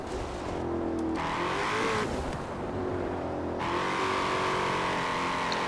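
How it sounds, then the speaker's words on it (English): A tuned, turbocharged car in Forza Horizon 4 revs its engine over a steady low rumble, with pitch climbing and dropping in several rising sweeps, loud and continuous with no talking. "Love the way this car sounds as well."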